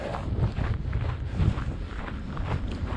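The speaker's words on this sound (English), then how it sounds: "It's pretty windy out here." Gusty wind roars across the microphone in an open winter park, a steady low rumble with buffeting swells and no voices.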